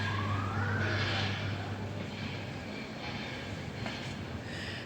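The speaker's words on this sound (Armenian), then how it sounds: "արդեն մեքենայի ձայնը գալիս է։" A car approaching near a station: a loud, steady rumble with a low engine hum and a faint rising whine, continuous throughout with no talk.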